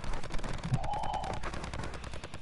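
Rapid automatic gunfire from a PS4 video game rattles steadily through the whole moment, dense and continuous at moderate loudness, with no talking over it.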